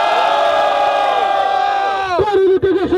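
At a Batalha do Tanque rap battle final in São Gonçalo, a voice calls out over a crowd, then the crowd bursts into loud cheering and shouting in the last second.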